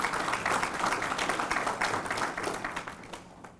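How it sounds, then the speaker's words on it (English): Steady applause from a crowd at a tribute to a Tuskegee Airman, many hands clapping together at a moderate distance, slowly fading toward the end. "Just give yourselves a round of applause."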